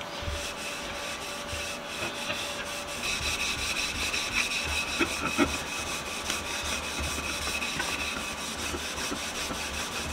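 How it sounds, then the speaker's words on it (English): Johnson's Paste Wax is rubbed onto wood with a continuous, close, soft scrubbing friction that holds an even level throughout. "We're gonna hit it with some Johnson's Paste Wax. Give it a nice smooth feel."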